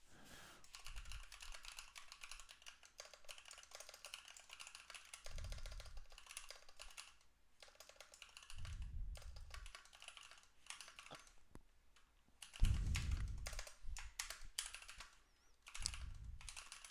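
Rapid, continuous typing on a computer keyboard at a live trading desk, close and crisp, with dense clattering key clicks running throughout and a few dull low thumps breaking in at intervals; no voices.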